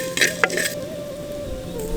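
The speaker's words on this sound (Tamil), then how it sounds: "வெந்தயம் சீரகம் எல்லாம் நல்லா வறுத்தாச்சு" Fenugreek and cumin seeds dry-roasting in a pan, with a low sizzle and a few sharp scrapes and clinks of stirring early on.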